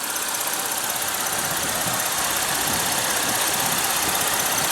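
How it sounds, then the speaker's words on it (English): A 2015 Chevrolet Impala's 3.6 L V6 runs at a steady idle, a close, even engine hum with constant vibration and no talking. "this engine provides plenty of power. It's very smooth as well, very refined."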